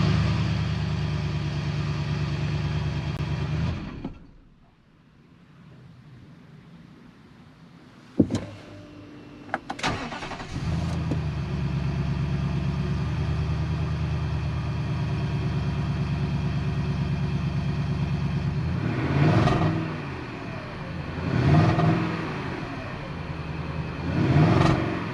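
A 2019 Nissan Titan engine runs after a high pressure fuel pump replacement, a steady loud idle that cuts out briefly, then restarts with sharp clicks and settles into a continuous hum with a few revs near the end.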